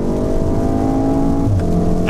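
A Volkswagen Golf R engine revs hard, giving a loud, close, sustained harmonic drone that climbs briefly and then shifts pitch near the end.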